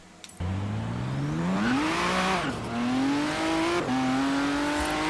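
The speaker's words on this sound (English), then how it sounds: "the noise it makes is actually quite good for a V6" A V6 Le Mans race car engine in Forza Horizon 3 revs loudly and steadily, its pitch climbing, dipping briefly, then climbing again through gear changes, close up with no talking.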